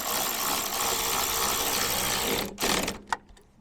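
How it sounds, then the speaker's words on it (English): A power tool tightens a 10mm bolt while a rugged bumper is fitted to a Tesla Cybertruck. It gives a steady, loud whir for about two and a half seconds, then a short pause, a second brief burst and a final quick buzz. "Now you can go ahead and tighten up this 10mm."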